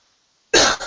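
A single harsh, close cough bursts out abruptly after a moment of silence, loud and rough, like a smoker's hack.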